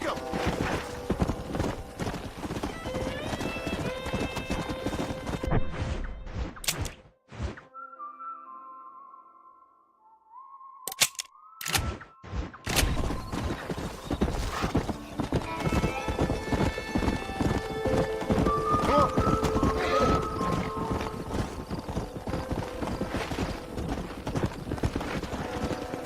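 Horses' hooves clip-clop steadily through a Red Dead Redemption game scene, with occasional whinnies, short whistle-like tones and a brief quiet gap midway before the hoofbeats and game sounds resume at full level.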